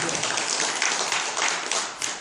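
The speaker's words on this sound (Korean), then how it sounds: "우리 국군 장병들 위해서 박수 한번 쳐드리십시오" At a Sunday Buddhist dharma talk, a congregation gives soldiers a dense round of applause, a close, steady wash of many hands clapping with no voices over it.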